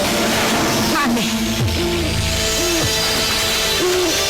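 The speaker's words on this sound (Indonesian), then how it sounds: "Burung hantu." An owl hoots in a series of wavering calls spread across a few seconds, set against a steady background bed of music and ambience.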